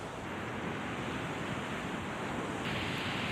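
Steady sea waves wash onto an empty Deoksin beach in Korea, a continuous broadband roar of surf with wind noise on the microphone, fairly loud and unbroken throughout, with no voices.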